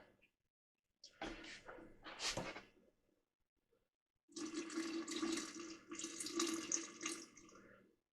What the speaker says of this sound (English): This is distilled unchlorinated water.